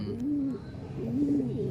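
Racing pigeons coo in two soft, rolling phrases, close by, with a low background hum and no talking.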